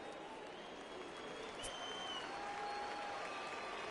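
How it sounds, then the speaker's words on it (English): Stadium crowd in the baseball video game MLB The Show 19 cheering and applauding as it gets up for a 3-2 count, a steady, dense roar of clapping and voices that swells slightly toward the end. "Crowd gets up for the 3-2."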